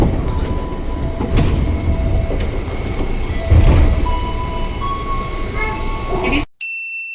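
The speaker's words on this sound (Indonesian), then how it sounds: "sekarang ini kita masuk ke stasiun Kebayoran yang terdiri dari 3" A KRL commuter train rolls into Kebayoran station on a three-track line, a loud close rumble of wheels and carriage noise with tonal squeals and a chime, cutting off abruptly near the end.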